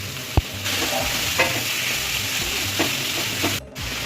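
Chopped onions, tomato and green chilli fry in oil, with whole cumin and dried chilli, for a mutton kosha, making a strong, steady sizzle close by, broken by a sharp knock near the start and a brief dropout near the end.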